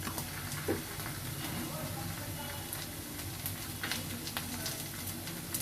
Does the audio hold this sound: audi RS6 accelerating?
no